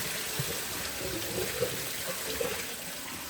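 Dye water drains from a pot holding a hand-knit cardigan being overdyed, a steady close rush of pouring liquid with small splashes that lasts throughout.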